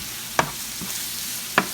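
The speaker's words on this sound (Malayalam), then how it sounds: "നന്നായിട്ട് കറക്കാൻ രീതിയിൽ നമ്മൾ വഴറ്റണം" Masala being sautéed in a pan for dum biryani, a soft steady sizzle with a few sharp spoon scrapes, close and without talk.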